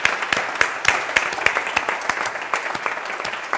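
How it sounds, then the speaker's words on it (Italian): An audience at a theatre evening applauds, steady massed clapping with a few sharper, rhythmic claps standing out close by, moderately loud throughout. "Un applauso anche ai..."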